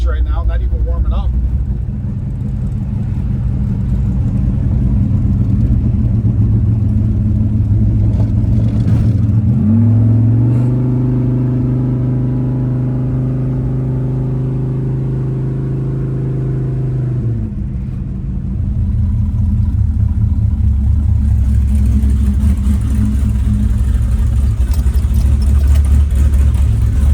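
A drag-strip car's engine runs steadily throughout, with a low rumbling idle and a brief sustained rise in revs in the middle before settling back, fairly close and loud, with people talking over it.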